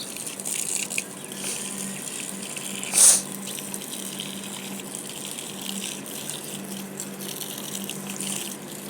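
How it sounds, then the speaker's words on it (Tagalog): Water sprinkles steadily onto garden plants, including roses and corn, as a continuous close hiss and patter with a brief louder splash near the middle. "Tsagaan natin mag-wisik-wisik sa ating pananim. Siyempre, kailangan din nila ng tubig."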